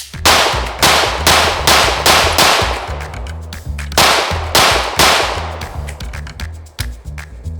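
A MAC 9DS Comp pistol firing PMC 115 grain rounds, a rapid string of loud sharp shots in two bursts, each crack ringing out with a clanging echo, no talking.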